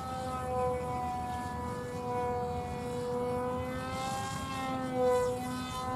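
An RC Albatross bomber model airplane flying aerobatics overhead gives off a faint, steady motor whine whose pitch slides up and down as it banks, rolls and swoops.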